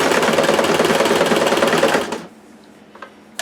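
A sewing machine runs a fast continuous zigzag stitch along a dress being altered, loud and close, then stops abruptly, leaving a few faint clicks and handling sounds.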